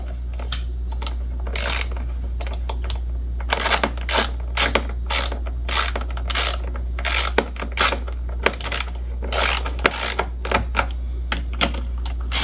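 Ratchet with a 10mm socket working a fuel filter fitting on a BMW X5, bursts of rapid clicking and clattering at close range over a steady low hum.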